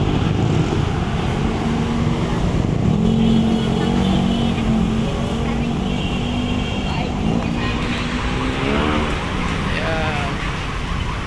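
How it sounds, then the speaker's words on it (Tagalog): Steady dense road traffic near Manila Bay, with continuous engine rumble, passing vehicles and occasional revving throughout, while a person talks over it. "Medyo matraffic ngayon oh."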